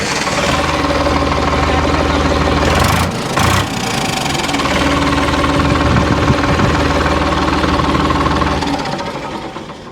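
A Sonalika Chhatrapati 745 DI tractor's diesel engine runs loud and close for the whole stretch, with a steady low throb and a brief dip and revving surge near the start.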